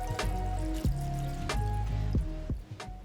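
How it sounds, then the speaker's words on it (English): A 750 ml bottle of Aperol poured out for a spritz, liquid glugging and trickling steadily with a few gurgling surges, close and fairly clear with no talk over it. "Now for the bitter, pour one 750 milliliter bottle of Aperol."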